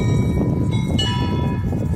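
Church bells ringing across Mykhailivska Square in Kyiv, sustained metallic tones hanging over a dense, continuous outdoor hum without any talking.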